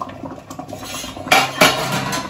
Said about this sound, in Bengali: এবার ঢাকাটা তুলে নিচ্ছি।